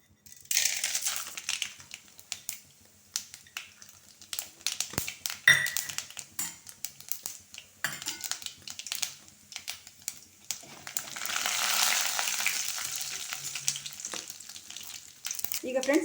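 Mustard seeds, chana dal and urad dal, about half a teaspoon each, crackle and pop in hot oil, a quiet, dense, fast spatter that swells into a broader sizzle near the end.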